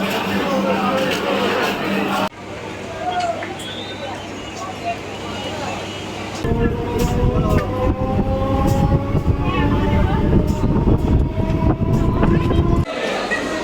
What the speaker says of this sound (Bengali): ট্রেনটা লক্ষ্মীকান্তপুর স্টেশনে থামিয়েছে। এখানে 20 মিনিট হল্ট করবে, তারপর আবার ছাড়বে।